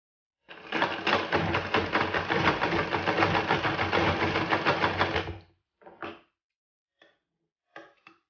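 Sewing machine stitching the side seam of a garment in a tailoring lesson, running in one steady, loud, rapid burst for about five seconds, then a few short stop-start bursts and single faint clicks.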